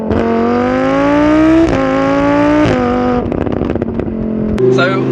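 A Lamborghini Huracan accelerates hard and loud through rising gears, each upshift cutting the climbing engine note before it ramps again, with crackles near the end.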